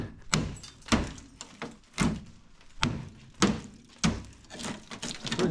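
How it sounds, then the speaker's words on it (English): Repeated heavy metallic thunks of a hammer striking the door of a 1978 MGB GT, about seven blows at an irregular, steady pace, close and loud with no talking. "I'll whack with a hammer there."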